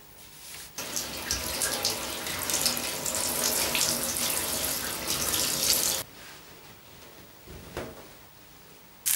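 Water runs steadily from a tap into a basin for hair washing, a loud continuous splashing rush that cuts off abruptly, followed by quieter handling sounds and a brief clatter.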